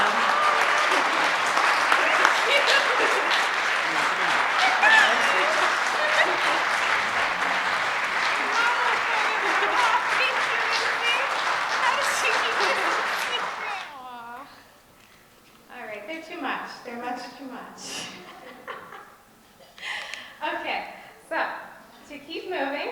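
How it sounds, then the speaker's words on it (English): An audience gives a round of applause for Rachel at an evening program of talks and performances. The clapping is loud and steady for about fourteen seconds, then fades as a person starts speaking. "I just wanted to have a round of applause for Rachel one more time."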